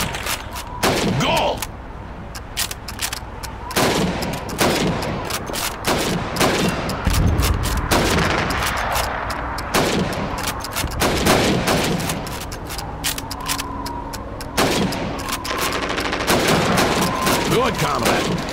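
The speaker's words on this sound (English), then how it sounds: "You have 15 seconds to shoot the helmets" Rifle shots ring out repeatedly in the Call of Duty 2 video game during a timed helmet-shooting training exercise, sharp irregular cracks spread across the stretch with brief pauses between bursts.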